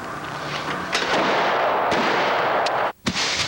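Gunshots ring out in a Western gunfight, a loud, dense barrage of sharp cracks with a brief silent gap near the end before firing resumes, with no talk over it.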